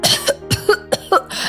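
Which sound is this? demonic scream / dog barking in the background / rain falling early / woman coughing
woman coughing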